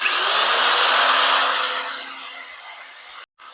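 A power drill bores into a wooden armoire, a loud steady whirring whine that eases off and stops near the end.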